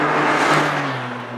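An Alfa Romeo Giulia QV sports car pulls hard, engine note rising briefly then easing, loud and close with a whirring edge.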